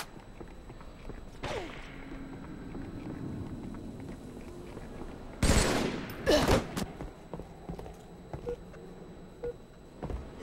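Quiet SWAT v2 video game ambience is broken midway by a loud burst of rapid gunfire, followed by a few scattered sharper shots and clicks.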